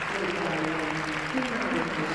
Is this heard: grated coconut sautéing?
no